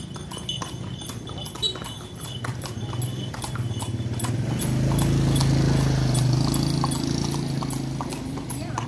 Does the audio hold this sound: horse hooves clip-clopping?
yes